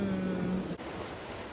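Surf and ocean waves wash steadily along an Australian island shore where fairy penguins gather, a continuous broadband roar with a brief dip partway through.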